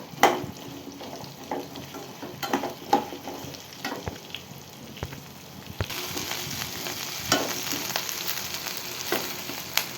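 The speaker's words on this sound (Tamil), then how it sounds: "அதனால் போடுறோம் முந்திரி. போட்டு வதக்கிக்கோங்க." Cashews sauté in a pan with onions for a paneer butter masala gravy, making a soft continuous sizzle punctuated by irregular spoon clicks and scrapes. The frying swells noticeably louder in the second half.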